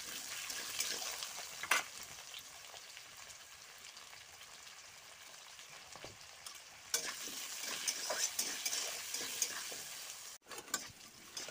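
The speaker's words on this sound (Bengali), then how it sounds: "ওই তেলের মধ্যে আলুগুলো ভেজে নেব সামান্য হলুদ গুঁড়ো ও লবণ দিয়ে।" Potato pieces frying in oil with turmeric and salt, giving a continuous soft sizzle with occasional stirring clatters and spoon knocks, fairly quiet and without voices.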